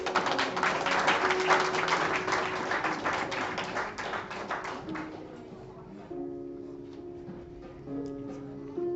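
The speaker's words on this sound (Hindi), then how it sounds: "तालियां प्लीज" A church congregation claps in a steady burst of applause that fades after a few seconds into quiet sustained musical tones.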